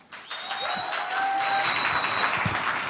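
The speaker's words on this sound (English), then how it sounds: "Now we're going to take a round of applause for each of you" Sustained applause and clapping from a conference audience at RailsConf 2023, a dense steady wash of many hands that rises quickly and holds loud, with a few faint whistles over it.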